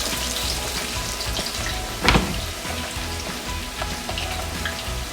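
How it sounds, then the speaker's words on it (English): Onions frying in hot oil give a continuous close sizzle, with one brief louder hiss burst partway through. "I think the oil is ready enough. I'm just gonna go ahead and put this onions in"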